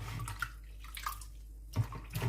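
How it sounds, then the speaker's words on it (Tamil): Raw prawns being rinsed and washed by hand in water, with faint, quiet sloshing and splashing and a slightly stronger splash near the end. "நல்லா க்ளீன் பண்ணி அலசி கழுவுங்க"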